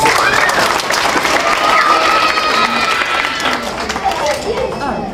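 An audience at a library magic show applauds a performing rabbit, a sustained wash of clapping mixed with children's excited shouts and chatter, loud and close throughout before easing slightly near the end.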